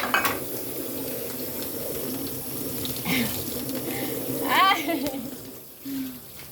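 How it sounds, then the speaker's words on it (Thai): A young boy washes dishes at a sink while a tap runs steadily, with clinks of plates and cutlery, a brief squeaky rub near the end, and voices in the background. "ก็ต้องมีสมาธิกับการล้างจานใช่ไหม"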